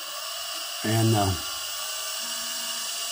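A wood lathe spinning near 1500 RPM hums steadily while a spindle gouge hollows end grain, giving one brief, loud cutting whine of about half a second; a voice briefly speaks.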